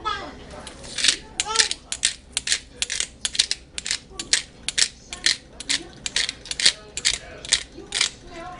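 A pepper mill grinds pepper into a pot of French onion soup broth, giving a run of rapid rhythmic ratcheting cranks, close and fairly loud, with a voice talking briefly underneath.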